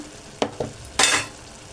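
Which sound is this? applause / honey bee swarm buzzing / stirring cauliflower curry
stirring cauliflower curry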